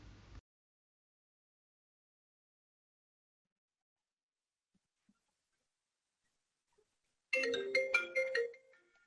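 A telephone ringtone: a brief bleep, then long silence, then a close, bright electronic melody of rapid chirping tones that plays for about two seconds before cutting off.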